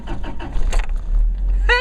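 A car with its check engine light on cranks and catches in a short, loud burst, the engine rumbling low at close range after a brief whine of the starter.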